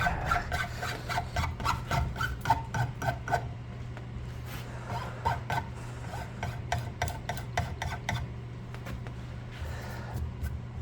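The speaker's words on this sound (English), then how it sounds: "I take a fine file and I just very lightly" A fine file chamfers the edge of a wooden octagon axe handle in light, rhythmic rasping strokes, quick and regular at first, then sparser, over a steady low hum.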